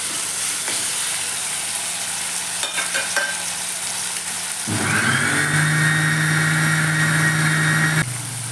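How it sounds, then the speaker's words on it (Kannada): Tomatoes fry in a pan with a steady sizzle, and spatula stirring scrapes in now and then; midway the sizzling grows louder and fuller, then drops back near the end. "ಟೊಮೆಟೊ ನೋಡಿ ಹಸಿ ಅಂಶ ಹೋಗುವವರೆಗೂ ಚೆನ್ನಾಗಿ ಉದ್ಕೊಳ್ಬೇಕು."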